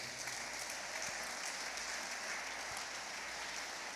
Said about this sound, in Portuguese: Então aplauda bem forte.